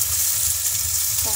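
Shredded cabbage frying in a pan, a steady close hiss of oil with a low background rumble, brief and unbroken, with no talking.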